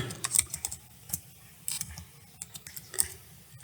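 Quiet keystrokes on a computer keyboard while writing in Microsoft Word, a loose, irregular run of soft clicks with short pauses between bursts.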